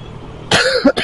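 A single sharp cough from a person with flu bursts out after a quiet stretch while riding, followed by a short second catch of breath, close and fairly loud.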